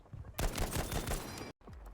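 Rapid bursts of Battlefield V gunfire on the Narvik map, loud and dense for about a second, then cutting off abruptly, with quieter game noise before and after.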